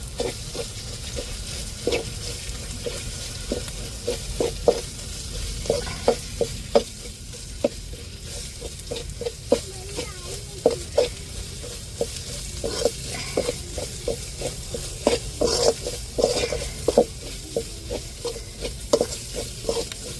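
Grated coconut, ground on a stone grinder, sautés in oil in a pan for a home dinner, with steady soft sizzling and frequent clinking stirs of a spoon against the pan throughout.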